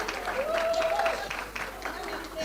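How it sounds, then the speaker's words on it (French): Applause from the audience at an awards ceremony, a soft, continuous patter of clapping with a voice speaking over it. "On applaudit bien fort pour D'Acosta"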